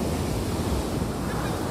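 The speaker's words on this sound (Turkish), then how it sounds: "Hem yağmur var hem denizde aşırı derecede bir dalga var." Rough, heavy surf pounds a beach at Antalya in rainy, stormy weather, a dense continuous roar of breaking waves with wind rumble, no voices.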